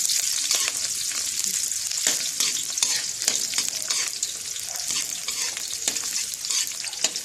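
Sliced red shallots deep-fry in oil with a loud, dense, continuous crackling hiss, broken by occasional stirring scrapes, close up and without talk.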